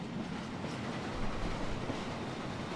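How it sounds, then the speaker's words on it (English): A train moves by in the Hitman 2 video game, giving a loud, steady low rumble that briefly swells in the middle, alone without speech. "I'm just gonna wait for the train to get into position."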